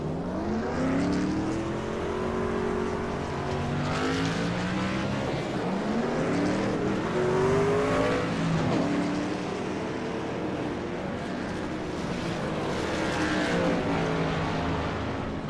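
Race cars pull onto pit road during a MaxSpeedTV race broadcast, engines droning loud and continuous with overlapping pitch sweeps as several cars rev and decelerate together, close by.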